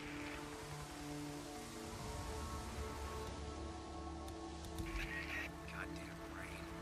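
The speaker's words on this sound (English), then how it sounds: "Seems like it's always raining out here." Steady rain patters continuously at moderate volume, a soft hiss with a low background hum and faint scattered sounds underneath.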